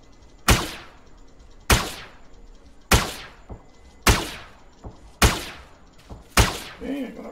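Six evenly spaced, sharp shots from a sci-fi weapon fired at a creature in the online game Entropia Universe. Each is a loud crack with a fading tail, followed near the end by a faint creature cry.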